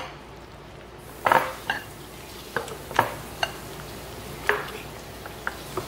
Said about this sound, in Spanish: Ahora los vamos a moler con un vaso.